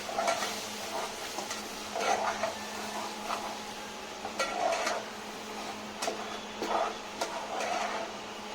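Ground masala paste frying and being stirred in hot oil in a pan for a Marathi-style crab curry, with intermittent scraping and stirring clatter over a steady soft sizzle, no talk.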